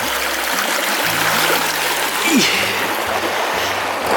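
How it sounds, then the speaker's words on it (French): Glacier meltwater stream flowing near Jasper, a steady close rush of water with broad hiss throughout, a low hum underneath and no talking. "Ça, c'est l'eau des glaciers, là, direct."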